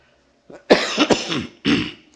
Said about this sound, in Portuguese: até agora há pouco não tinha nenhuma tosse